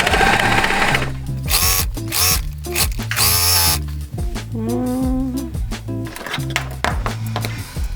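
A sewing machine stitches stretchy underwear fabric that tends to roll at the edge. The motor runs in loud, steady bursts, speeding up and slowing down with rising and falling whine, and no one talks.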